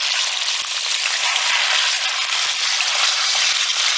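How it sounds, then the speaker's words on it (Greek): Meat sizzles hard in olive oil with onion and garlic in a pot. A dense, steady frying hiss runs throughout with small crackles and pops, and no one speaks over it. "Τώρα είμαστε έτοιμοι να σοτάρουμε το κρέας μας."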